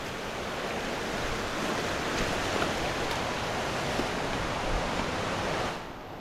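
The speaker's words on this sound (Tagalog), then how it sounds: "May bukal po dito sa side dito." Steady rushing wash of water flowing from a natural spring in a forest, continuous and fairly loud like surf, easing slightly near the end, with no talk.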